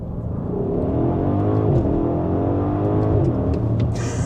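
Audi SQ7 SUV (2026 Vorsprung) accelerating hard in first gear, a loud, steady engine roar with rising pitch sweeps as revs climb, heard close and continuously with no talk over it.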